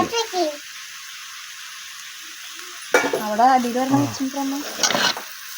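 Gravy sizzling and frying in a pan as it is stirred over a gas flame, a steady hiss with scraping stirs, partly under people talking nearby.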